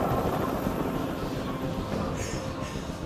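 A steady helicopter rotor drone in the video game Detroit: Become Human fills the scene with a dense, continuous mechanical roar that holds at a constant loudness throughout.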